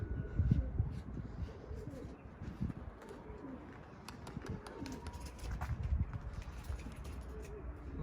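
Pigeons coo softly amid a busy outdoor backdrop, low murmuring calls mixed with flutters and light rustling, fairly faint and continuous.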